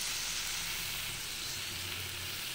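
Turmeric and salt frying in a pan give a steady, fairly quiet sizzle and hiss, close by and without talk.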